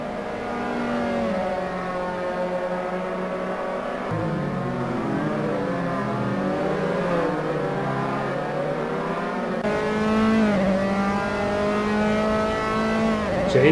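Formula-style race cars of the simF3 series scream around the Algarve circuit in Assetto Corsa, several engines whining and shifting pitch as they accelerate and chase each other closely, loud and continuous.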